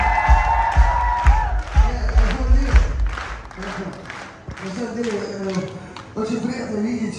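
Applause and cheering from a concert crowd at a show in Ufa's Palace of Youth, steady clapping with whoops rising and falling over several seconds, with a voice speaking over the noise.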